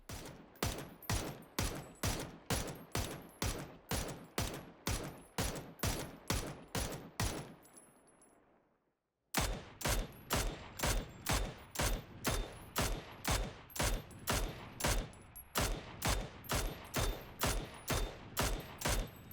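Evenly spaced semi-automatic shots from Mk12 and Mini 14 rifles in PUBG, loud and close, crack in a fast steady rhythm with a short silent pause partway through, no talking.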